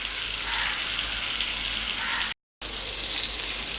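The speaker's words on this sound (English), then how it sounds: "I'm going to fry it till it's nice and golden brown." Chicken legs pan frying in hot oil, a steady dense sizzle close and loud, continuous apart from a brief cut to silence.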